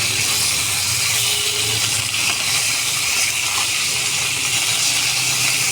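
Pieces of bhetki fish fry in hot oil in a home kitchen, giving a loud, continuous sizzling hiss that holds steady and close throughout without any pause.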